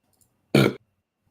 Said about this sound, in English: that was a massive burp